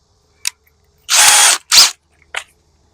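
Cordless drill driving screws into a deck stair, with two brief taps, then two loud whirring bursts of about half a second each and a short final blip.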